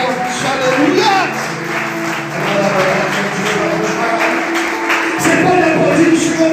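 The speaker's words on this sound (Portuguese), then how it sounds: "Se é para Ele, aplauda mais forte." A church congregation claps during a lively worship service, with rhythmic applause layered under loud music or singing and voices that dominate the mix throughout.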